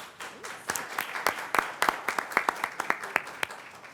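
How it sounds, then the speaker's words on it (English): An audience at a talk gives a round of applause, sparse and uneven at first, then sharp individual claps from a modest group building into a quick, separated rhythm. "Let's give Brooke a big round of applause then."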